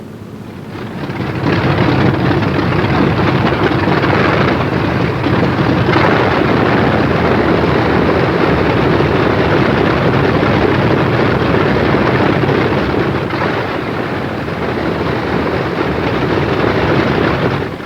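Douglas A-20 aircraft engines taxiing, a loud continuous roar that swells in within the first second or two and holds steady and broadband, with slight dips in intensity near the end.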